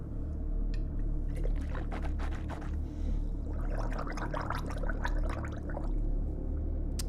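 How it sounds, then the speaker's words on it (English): Water gargled in the throat after a drink from a Hydro Flask bottle, a continuous bubbling, churning rattle lasting several seconds, close and steady with no talking. "It's literally just water and me gargling"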